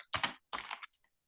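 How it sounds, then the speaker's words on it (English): A computer keyboard being typed on in two short bursts of quick, close keystrokes separated by a brief pause, with a couple of faint taps trailing after. "I'm going to type a sentence into the document using the keyboard."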